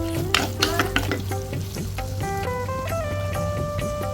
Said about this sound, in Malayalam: ഇനി നന്നായിട്ട് വഴറ്റി ആ ഒരു പച്ചമണം മാറ്റാം.